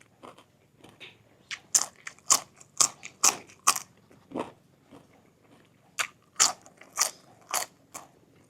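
Crisp food is bitten and chewed up close in a quiet room, giving loud, sharp crunches in two uneven bursts with short pauses between them.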